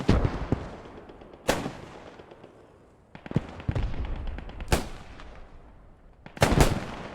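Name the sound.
rifle gunfire in a video game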